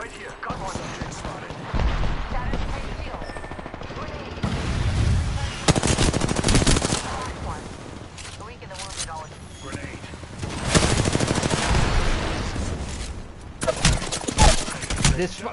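Bursts of automatic gunfire from the video game Apex Legends crackle in repeated clusters over about fifteen seconds, loud and close, with game voice lines and talk mixed in between volleys.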